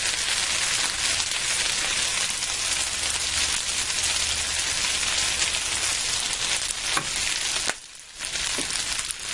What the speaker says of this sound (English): I'm going to fry these till they get a little browner.